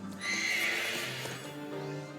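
Glastrier, the hulking ice horse from a Pokémon game's Crown Tundra, lets out a loud, shrill whinny that rises and fades, followed by soft hoof clops.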